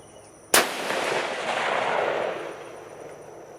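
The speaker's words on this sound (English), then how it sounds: "we're going to fire our first round through the CVA Cascade" A single sharp rifle report from a CVA Cascade in .308 fired outdoors at a shooting range at 25 yards, a loud close crack followed by a long rolling echo that fades over a few seconds.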